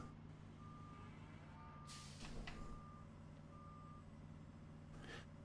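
A dump truck in the Farming Simulator video game, on a Great Smoky Mountains farm map, gives steady evenly spaced reversing beeps over its engine rumble, with air brake hisses in between.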